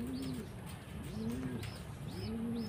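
A pigeon being handled coos three times in slow, rounded, repeating calls, close and fairly quiet against soft background noise.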